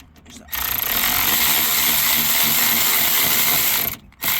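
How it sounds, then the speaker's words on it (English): An electric ratchet whirs continuously at close range for about three and a half seconds as it loosens a rear wheel bearing bolt on a 2002 Nissan Maxima. Quieter shop background sits before and after the burst. "take the electric ratchet and loosen it all the way"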